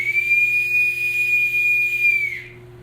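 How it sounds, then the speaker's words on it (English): A bosun whistle blown on a ship: one sustained, clear, high steady tone held for over two seconds, then sliding down and cutting off, loud and alone over a low steady hum. "That's the bosun whistle on a ship."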